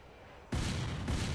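Gunfire in the video game Free Fire: a loud, sudden burst of shots cuts in after a quiet moment, followed by a second close burst.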